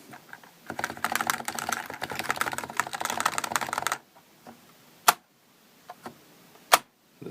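Typing on a stock NovaTouch Topre keyboard without damping rings, a dense run of close, rattly keystrokes followed by a few isolated snapping key presses.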